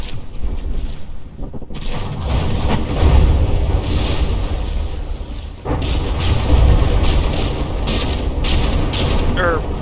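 Battleship guns fire and shells strike in the From the Depths tournament battle between Megadozer and Extermination: repeated deep booms and rumbling impacts, loud and layered, with a commentator talking over them.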